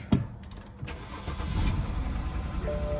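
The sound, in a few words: car engine starting at auto auction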